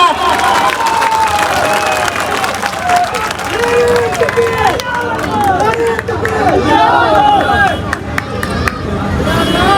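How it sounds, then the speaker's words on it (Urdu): An audience at a women's association gathering cheers and claps to welcome a Bihar MLA onto the stage, a loud, continuous crowd roar with scattered applause and overlapping voices throughout. "آپ زوردار تالیوں سے سواگت کیجیے اسٹیج کے اوپر"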